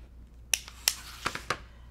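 A flying geese quilt unit is cut apart down the center, heard as a few crisp, close snips spaced unevenly over about two seconds against a quiet room.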